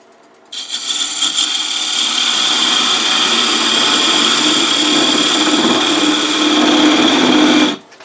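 A parting tool cuts into spinning wood on a lathe while turning a tower top, a loud, steady whirring scrape that starts abruptly, holds evenly for about seven seconds and stops sharply.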